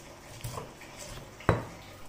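Coriander, fennel, shallots and garlic being ground smooth in a kitchen, with soft scraping and light clinks followed by one sharp knock, quiet and close, with no talking.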